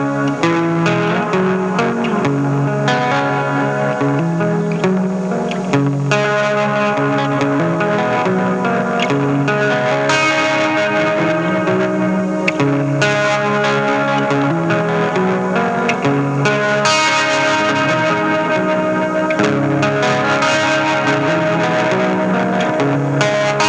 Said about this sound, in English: we can really turn up the volume of the fuzz so you can hear kind of like super subtle reverb / distortion fuzz sound